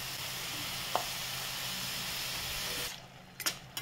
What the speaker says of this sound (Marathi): आता याच्यामध्ये मी दूध घालून घेते।